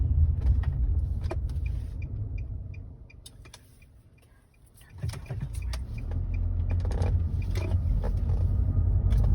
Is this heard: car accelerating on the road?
yes